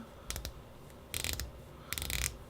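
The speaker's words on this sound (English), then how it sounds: "Let's hear the clicks on this." Bezel on a Zelos Horizons 39mm diver watch ratcheting in three quick bursts of tiny metallic clicks, close-up and quiet, with no voices.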